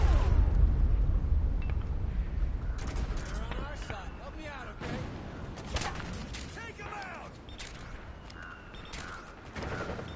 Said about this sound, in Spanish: ¿Dónde han venido esos tiros?